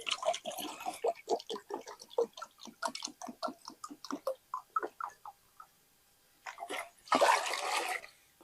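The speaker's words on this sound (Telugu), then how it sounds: "2 చెంబులన్నీ వాటర్ పోసుకుందాం" Water is poured into a cooking pot for chicken dum biryani rice: a loud, rushing pour of about a second near the end, after a stretch of quick, rhythmic tapping sounds and a brief pause.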